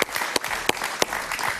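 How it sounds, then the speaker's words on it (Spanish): A studio audience at a television talk show breaking into applause, a dense and sustained burst of clapping with a few sharp accents. "Un gran aplauso para Paciano Padrón."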